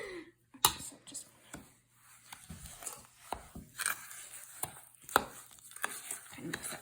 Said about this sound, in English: I will just use a big spoon to mix it together.